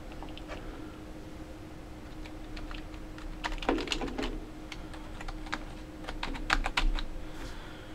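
Someone types on a PS2 computer keyboard for a vintage Tiger Learning Computer, giving a steady run of close, crisp key clicks that bunch into busier bursts near the middle and end, with no talking.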